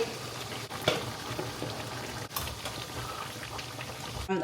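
Chicken curry with onion, tomato and potato cooks in a pan, giving a steady, dense bubbling sizzle with faint stirring scrapes throughout, close and continuous with no voices.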